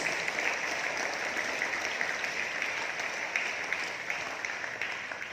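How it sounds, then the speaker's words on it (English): A crowd applauds steadily for several seconds at a school Gandhi Jayanthi celebration, a dense wash of clapping hands that holds at an even level and fades slightly at the end. "So please give them a big round of applause."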